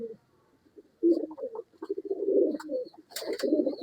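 Pigeons cooing close by, several soft throaty coos in a row after a quiet start, with a few brief higher chirps near the end.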